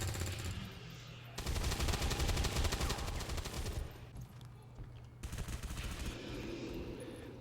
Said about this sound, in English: we're just gonna have to lay some bullets into this thing.